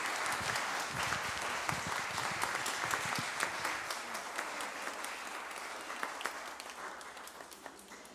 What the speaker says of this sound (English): Congregation may rise, and a round of applause, please